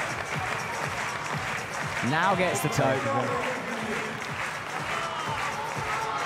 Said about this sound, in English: Crowd get behind him.